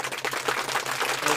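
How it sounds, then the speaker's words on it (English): Students applaud in a classroom after a correct answer, a brief burst of dense, lively clapping from a small group nearby. "Let's give her a round of applause."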